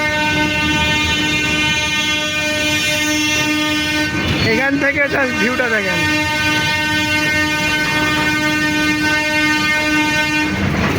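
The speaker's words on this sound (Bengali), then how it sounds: "রাজশাহী বেজের কোচ অলরেডি আমাদের পাশে, গাড়িটা ধাক্কা দিতেছে" A train at Saidpur station rumbles steadily, with a loud horn blast about midway, heard up close from aboard as someone speaks briefly.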